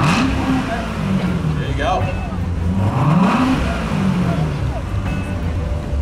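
A sports car with the Z07 performance package, carbon fiber aero and Brembo brakes revs in sport mode at a car showcase, its engine note climbing and falling in a couple of swells under nearby talk.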